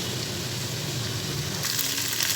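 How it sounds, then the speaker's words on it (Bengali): Sliced okra frying in a pan with spice paste, turmeric and chilli, a dense continuous sizzle close up that brightens toward the end, with no voices. "এখন কেটে রাখা ভেন্ডিগুলোকে আমি অ্যাড করে দিলাম"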